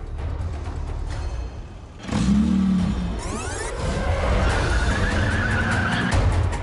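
A 1980s BMW convertible with an automatic gearbox accelerates hard in a drag race, its engine droning and rising steadily at close range, with a surge of louder revving and tyre noise partway through.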